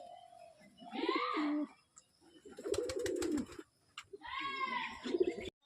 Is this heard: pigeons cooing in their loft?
yes